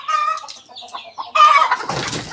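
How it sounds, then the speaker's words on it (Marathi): Chickens in a poultry farm shed cluck and squawk in overlapping bursts, near and fairly loud, with a denser flurry of calls toward the end. "यामध्ये त्यांनी ह्या कोंबड्या सगळ्या केल्या"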